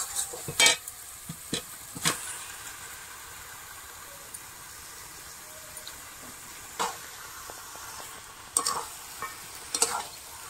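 Chicken meat stirred into a fully cooked-down spice masala, giving a faint steady sizzle broken by several sharp spoon scrapes and clatters against the pan.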